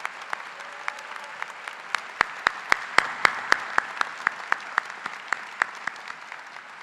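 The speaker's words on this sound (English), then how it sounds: "Please give a round of applause for the 2022 master's graduates." Sparse applause for 2022 master's graduates at a commencement ceremony: a small number of separate, sharp claps ring out in an uneven rhythm, fairly close, with no crowd roar behind them.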